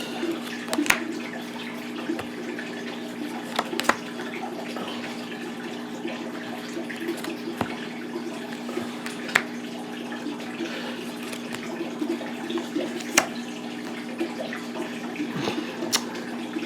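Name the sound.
water being poured into a fish tank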